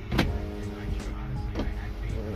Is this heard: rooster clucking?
no